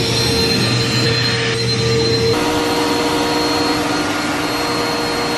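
A household vacuum cleaner runs steadily and loudly up close, its whine holding throughout with a slight shift in pitch partway through.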